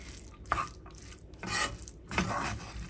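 Drained rice being stirred with chicken, carrot and spices in a pot, giving scraping, rustling strokes of a utensil against the pot in three distinct bursts, close by, with no talking.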